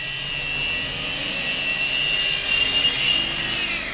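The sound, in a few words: HG08 remote control helicopter flying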